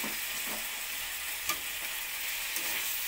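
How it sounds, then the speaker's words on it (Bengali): Fried potatoes stirred into cooked masala in a pan: a soft, even sizzle with a few spatula scrapes, fairly quiet and close, no talking. "ভেজে রাখা আলুটা দিয়ে দেবো।"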